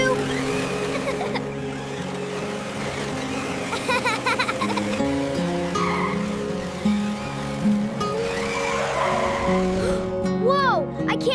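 Little toy cars race and skid in a kids' story scene, with revving engine whines and squealing skids rising and falling against a busy background of voices and music, ending in a sharp sliding screech.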